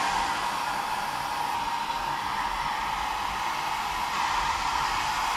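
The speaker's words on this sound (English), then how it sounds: "all done with this side using the AirHype Lite dryer." A TYMO AirHype Lite hair dryer diffuses curly hair, blowing a steady, close, even whoosh of air that runs unbroken from start to finish with no talking.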